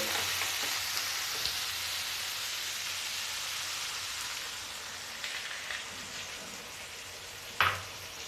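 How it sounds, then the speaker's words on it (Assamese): Jackfruit curry with potatoes frying in a pan as water is poured in, giving a steady, fairly loud broadband sizzle throughout, with a brief sharper hiss and crackle burst near the end. "এতিয়া মই ইয়াত অলপ পানী দি দিম।"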